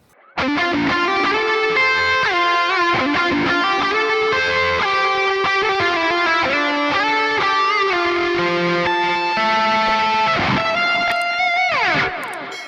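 A distorted electric guitar plays a melodic lead line with sustained, reverb-washed notes and bends, with high reverb pre-delay letting the initial pick transient through first, loud and continuous throughout, with no talking.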